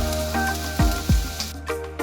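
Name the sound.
garlic sautéing in oil in a pan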